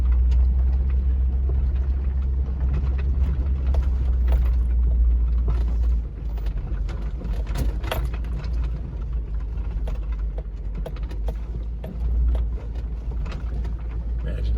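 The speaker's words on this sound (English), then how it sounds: "big time water crossing. And just a little splash here" A vehicle on an overlanding trip in Montana rolls through a mountain stream crossing, a heavy, constant engine and tire rumble with scattered splashing and rattling from the water and rocks.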